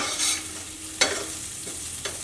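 Vegetables frying in an open pan with steady crackling sizzle, stirred by hand with a few sharp scraping clacks of the utensil against the pan; close and alone, no voices.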